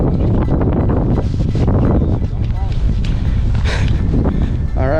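Wind gusting across the microphone beside a river just below Lake Estes on a chilly winter day, a loud, steady rumbling buffet that fills the whole stretch, with people talking over it.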